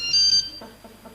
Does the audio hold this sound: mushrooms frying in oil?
no